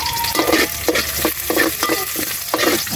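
Garlic and onion fry in hot oil, a loud close sizzle broken by a quick rhythm of stirring scrapes about every half second. No voices are heard.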